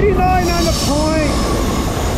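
A Norfolk Southern freight train led by three locomotives, including an AC44C6M and an ES44DC, rolls past at about 49 mph, loud and close, with metallic wheel squeals and steady rumbling.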